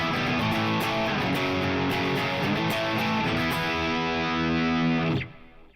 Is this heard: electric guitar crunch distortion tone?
yes